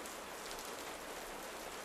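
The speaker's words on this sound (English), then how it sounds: "Let your breathing slow to match the rhythm of the rain." Steady, soft rain falling in an even hiss, faint and constant with no other sounds.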